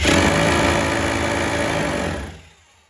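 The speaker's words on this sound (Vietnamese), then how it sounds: "đây là khoan bê tông này." An FEG 800W hammer drill set to concrete drilling mode runs loud and close with a steady buzzing whir, then winds down and fades near the end.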